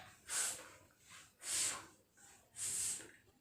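A voice imitates water spraying from a fire hose with three breathy, hissing "fff" bursts, each about half a second long, evenly spaced and quiet.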